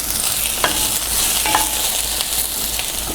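Brussels sprouts cooking down in a pan, a steady loud sizzle with a few quick scraping strokes of a spatula stirring them, close and without talk.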